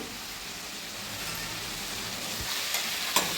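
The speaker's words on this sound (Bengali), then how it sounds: "আদাটা দিয়ে দেবো" Ginger hits a hot pan while banana flower curry cooks, giving a steady close crackling sizzle with faint stirring scrapes and a small clack near the end.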